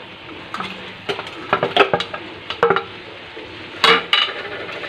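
Chicken pieces go into a pan of thickening chili garlic sauce, bringing close clinks of a utensil against the pan, stirring scrapes and a low sizzle in a few irregular bursts, with no talking.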